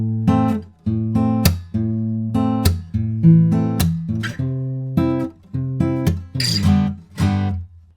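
Acoustic guitar playing the second pre-chorus of a song with no capo, moving down to a G bar chord, heard as clear rhythmic strummed chords in short bursts with brief gaps, close and alone.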